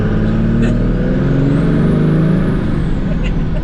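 A truck drives past on a residential street, a steady, loud engine roar and road rumble that rises and eases over a few seconds, with a faint high whine drifting above.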